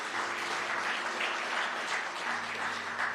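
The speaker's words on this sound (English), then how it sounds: "Let's give her another round of applause." An audience claps steadily in applause at a faith gathering, a dense even patter of hands at moderate level with a faint low hum beneath.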